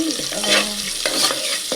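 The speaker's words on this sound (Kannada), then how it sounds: "ಅಂದರೆ ಟ್ರಾನ್ಸ್ಪರೆಂಟ್ ಆಗೋ ತನಕ ಫ್ರೈ ಮಾಡ್ಕೊತೀನಿ" Sliced onion frying and being stirred in hot oil in a pan for a chicken masala sambar, a steady close sizzle with scraping spoon strokes, no voice.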